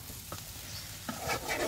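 Jackfruit curry frying in oil hisses and sizzles in a pan, with a couple of brief scraping stirs and small crackles, close and fairly quiet with no talking.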